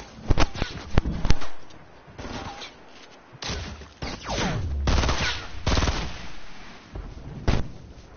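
Video game gunfire fires in a cluster of sharp shots and short bursts, loud and close, scattered across several seconds among other in-game action sounds.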